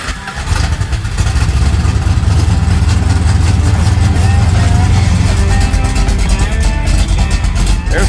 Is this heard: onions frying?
no